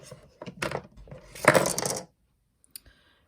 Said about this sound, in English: I'm going to take my round nose pliers